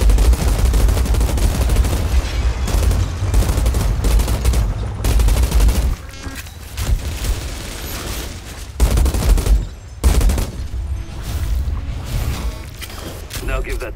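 Rapid sidearm fire in the shooter game Outriders, with loud, dense bursts of shots and heavy impacts that pause briefly and resume in several volleys, with voices speaking between bursts.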